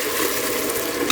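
Ground paste for mint rice fries hard in a pan over high flame, a dense, steady close-up sizzle with no pauses.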